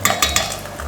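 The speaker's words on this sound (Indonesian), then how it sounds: "Terus kita aduk-aduk." Sweet and sour sauce with chili sauce and oyster sauce being stirred in a pan, with a few quick scraping clicks of a utensil over a soft steady sizzle, close and moderately loud.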